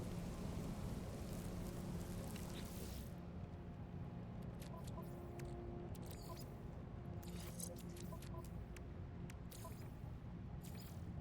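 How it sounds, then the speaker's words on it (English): Steady rainstorm hiss with low rumbling thunder in the video game No Man's Sky, continuous and fairly loud, with scattered clicks and crackles over the wash of rain and no talking. "Weather warning. Incoming storm."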